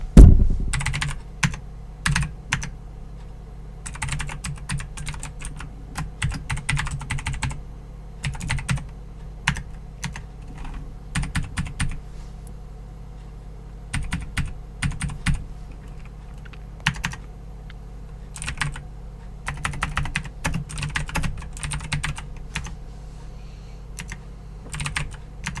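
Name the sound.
typing dummy details on a computer keyboard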